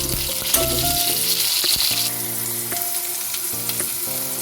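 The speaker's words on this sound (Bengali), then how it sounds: "পনির ভেজে তুলে রেখে ডুমো ডুমো করে কেটে রাখা আলুটা দিয়ে ভেজে নিচ্ছি।" Diced potatoes fry in a pan after paneer has been browned, giving a steady, dense sizzle that continues close and fairly loud throughout, with no talk.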